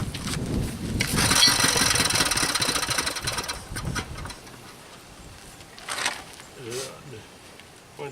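A Briggs engine on a David Bradley machine is cranked with the choke set, sputtering and turning over in short bursts before fading, with people talking nearby.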